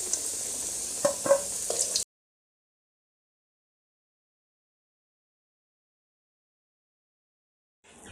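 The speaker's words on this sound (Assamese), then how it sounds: "আলু কেইটা মই আগতে ভাজি লম" Oil sizzles and crackles loudly as potatoes fry for about two seconds, then everything drops to silence.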